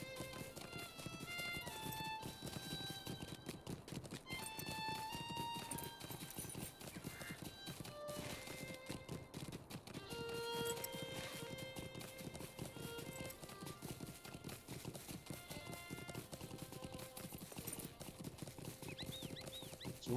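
Rhythmic clip-clop of horse hooves while riding toward a gate town in a Middle-earth video game, steady and continuous under layered game music, with an occasional neigh.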